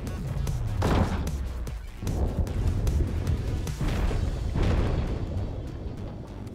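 Repeated booming shots fired at the Kraken, a giant squid, in the underwater Dave the Diver video game, heavy low blasts recurring every second or so over a rumbling background.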